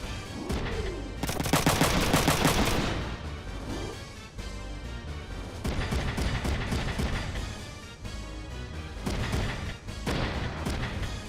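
Machine gun fire from the mech strategy game Front Mission 3 crackles in a dense rapid burst, followed by further clattering volleys and mechanical combat sounds, loud and close.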